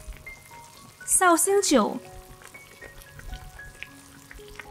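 Vegan shrimp stir-fry in a pan with sesame oil, giving off a steady low sizzle and crackle. A voice talks over the frying partway through.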